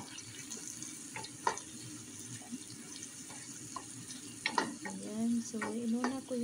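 Garlic, onion and carrots are sautéed in a pan for chicken afritada, with a low sizzle, scattered stirring clacks and scraping utensil sounds building toward the end.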